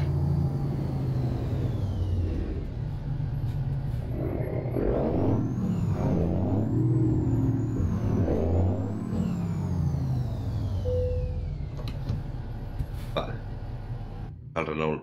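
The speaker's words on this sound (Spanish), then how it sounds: "Ahora me pongo por último el Renault T, para que veáis el sonido ese que hemos metido antes." A Renault T truck engine sound mod running in a trucking video game, a steady low diesel drone that rises and falls with shifts, with someone talking over it.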